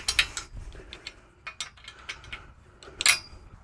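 Nuts and bolts on an antenna mast being tightened by hand tool, giving close, quick ratcheting clicks and metallic taps in short irregular bursts, with no talking.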